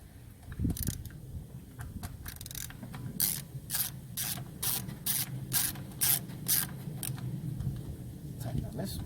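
Ratchet tightening spark plugs on an Acura TL engine, heard as a run of sharp, evenly spaced clicks in bursts over a low mechanical rumble, close to the listener, with a voice talking faintly underneath.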